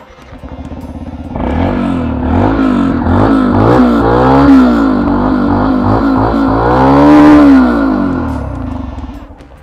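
Yamaha FZ-X motorcycle engine revved repeatedly, rising and falling throttle sweeps over a steady idle, close and loud, with a strong peak near the end and no talk.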